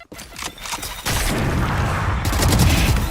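A grenade goes off in a video game with a heavy, booming blast. Rapid crackling bursts like gunfire come first, then the explosion hits hard and rumbles on loudly close to the listener.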